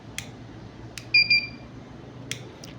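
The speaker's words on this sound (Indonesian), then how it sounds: "Jika NRF kita itu rusak atau wiringnya tidak berfungsi, maka dia akan berbunyi." A beep from an Arduino NRF24 transmitter signals a fault or a wiring problem. It sounds as a short double electronic tone, clear and close, with faint clicks around it.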